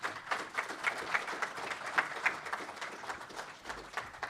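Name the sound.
audience applause thanking the panelists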